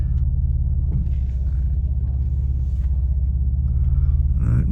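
A Mercedes-Benz W124 300E with a 2.6 engine cruises along the road, giving a close, steady low engine rumble and drone from inside the car with no talking.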